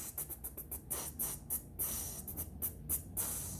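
A beatboxer's voice imitating a hi-hat with rapid T and TS sounds, a quick run of crisp, hissy clicks repeated in a steady rhythm, close and fairly quiet, with no other talk.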